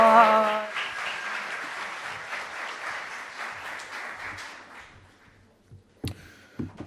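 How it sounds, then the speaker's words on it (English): An audience at a university startup pitch competition applauds warmly for a presenter, the clapping starting strong and tapering away, followed by a few scattered sounds near the end. "How about one big round of applause for Vanessa Sina?"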